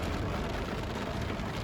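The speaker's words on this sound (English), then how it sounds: "it is storming now. Really, really bad." Heavy storm rain drums on a car during a fishing outing, heard from inside as a steady, dense hiss that fills the whole moment with no voices.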